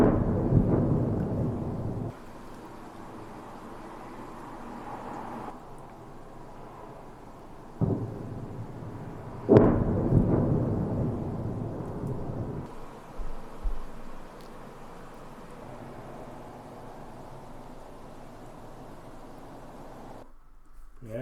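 Heavy low booms from a ballistic missile strike on Kyiv, heard as a recording, rumble through the air, with two sharp blasts standing out amid a lingering rolling roar.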